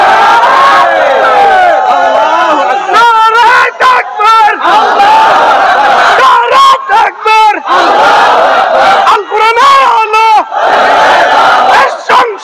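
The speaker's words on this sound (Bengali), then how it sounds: "দুহাত তুলে একবার তাকবীর দিয়ে দেখাতে হবে।" A large crowd at an outdoor religious sermon gathering shouts takbir in unison, loud, massed chants rising in several waves with short gaps between them.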